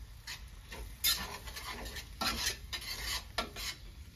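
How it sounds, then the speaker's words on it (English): Potatoes and ham stirred in a frying pan, a soft scraping and light sizzle with irregular strokes of the utensil against the pan, quiet and close, with no talking. "Get all the taters and ham coated."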